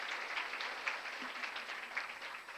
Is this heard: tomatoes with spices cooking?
no